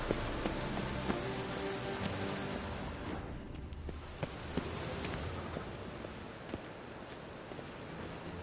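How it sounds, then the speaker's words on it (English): Steady rain falling in the video game The Witcher 3: Wild Hunt, a dense continuous patter on surfaces with scattered louder drops, heard alone without speech. "Looks like rain."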